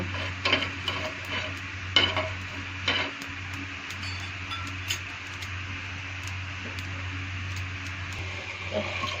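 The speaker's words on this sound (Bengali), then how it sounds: "পাঁচফোড়নটা একটু গরম করে নেব।" Panch phoron spices heating in a pan, a soft continuous sizzle broken by sharp scraping and tapping from stirring, loudest early on and then settling into a quieter steady fry, no talking.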